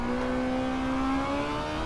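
A race car engine in Gran Turismo 7 revs hard and steadily after a missed gear shift, a loud, continuous whine with its pitch holding high, then rising slightly.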